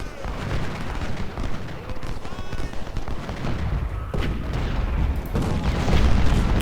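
20-pounder artillery pieces firing in the Civil War strategy game Ultimate General at the Battle of Malvern Hill, repeated booms over a constant battlefield din of gunfire, with a voice talking over part of it.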